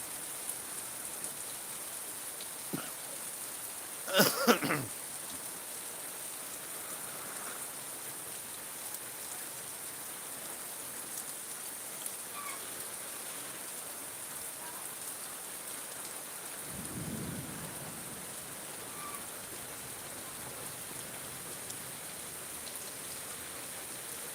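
Steady, faint rain hisses on outdoor surfaces under a darkened sky, with a sharp knock early on and a low, soft rumble later in the passage.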